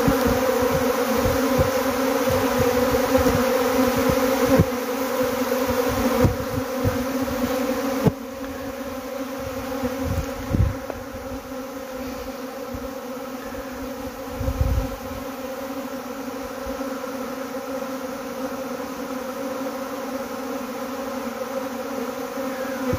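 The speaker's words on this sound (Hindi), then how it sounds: "अभी देख सकते हैं आप किस तरीके से मधुमक्खियाँ मंडरा रही हैं और ये कैसे यहाँ बैठ रही हैं।" A swarm of Himalayan honey bees buzzes continuously close by, a dense, steady drone with a few louder passes and thuds, and no voices.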